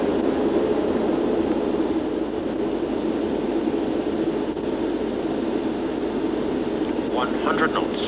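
Airliner engines roaring during the takeoff roll, heard from inside the cockpit on a flight to New York, a loud, steady broadband rumble throughout, with a brief higher tone near the end.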